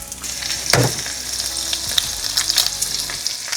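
Onion sizzling and frying in a pan at a camp cook-up alongside bacon and burgers, with a steady close crackle broken by sharp scrapes and clinks of a utensil stirring.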